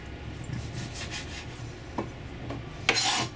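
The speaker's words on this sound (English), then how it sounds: "so you cut them even smaller" A kitchen knife cuts bacon into small pieces for fried rice, making faint, close scraping strokes on a cutting board with a few sharper cuts, and no talking.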